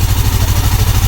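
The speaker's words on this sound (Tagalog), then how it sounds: "Tahimik na yung motor niya mga bossing." A Yamaha Sniper 155 motorcycle engine idles steadily up close after a noisy ticking was fixed, a low even rumble with a quick regular pulse and no voices.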